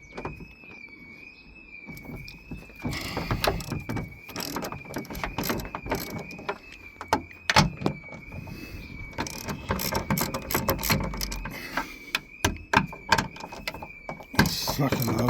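A hand tool works 8mm bolts loose on the door of a Ford Connect MK2 van, giving irregular sharp ratcheting clicks and metallic knocks at close range over a faint steady whine.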